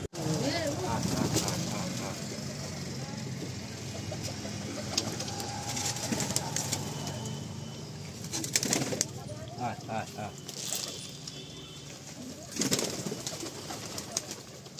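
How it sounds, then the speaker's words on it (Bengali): Pigeons living on a third-floor building coo repeatedly at close range, with a steady murmur of other birds and a faint voice or background noise around them. "আমার 3 তলায় পায়রা থাকে"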